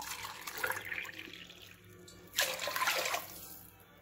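Water pours into a cooking pot while four cups are measured for rice and lentil rice, a splashing, hissing stream with a short pause before a second louder pour, no speech.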